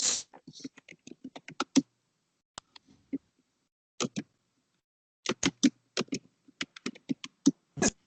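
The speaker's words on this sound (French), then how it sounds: "il y a une personne qui tape au clavier et ça me dérange" Someone types on a computer keyboard, producing faint, crisp keystroke clicks in quick irregular bursts separated by short pauses, fairly close but quiet.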